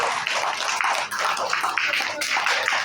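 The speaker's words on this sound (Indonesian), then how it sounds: "Sekali lagi kita kasih tepuk tangan yang meriah buat anak-anak" Lively applause from a gathered audience for the children at a religious Santri Day gathering at an Islamic boarding school, a dense wash of many hands clapping steadily throughout.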